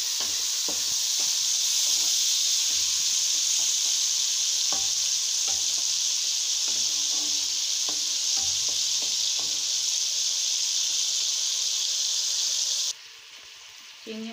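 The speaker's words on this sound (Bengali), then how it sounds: "চিংড়ি মাছটা আমি 2 মিনিট ভেজে নিয়েছি।" Prawns frying in hot oil in a pan, a loud continuous sizzle with scattered taps and scrapes of stirring, close up, ending abruptly as the heat drops away.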